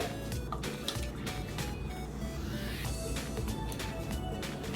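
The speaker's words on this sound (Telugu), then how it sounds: "ఈ వాటర్ ఎంత యాడ్ చేయాలి అంటే 2 కప్స్ మైదాకి 3/4 కప్పు వాటర్ యాడ్ చేసుకుంటే" Water poured into maida flour for homemade pizza dough, a steady liquid pour and splashing that runs continuously for several seconds, close and fairly even in level with no talking.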